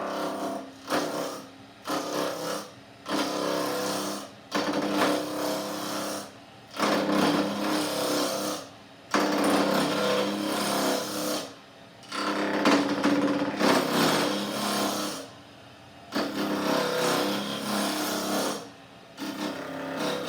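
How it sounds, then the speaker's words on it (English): A wood lathe spins while a roughing gouge cuts the workpiece for a string top, making repeated bursts of loud rough scraping and whirring close by, broken by short pauses as the tool comes off the wood. "So the roughing is done with the roughing gouge."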